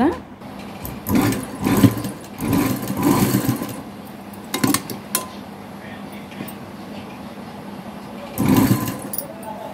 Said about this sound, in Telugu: ఇలా కర్వ్స్ అన్నీ మనం నీట్గా ఇలా పాదం లైట్గా తేల్చుకుంటూ స్టిచ్ చేసేద్దామండి